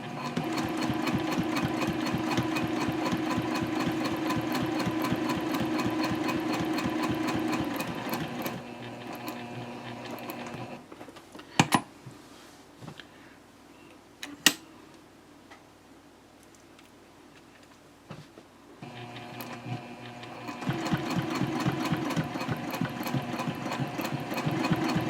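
A sewing machine top stitching a handbag, running in rapid steady bursts of clicking stitches, pausing in the middle with a few sharp clicks and handling noises, then resuming the fast rhythmic stitching.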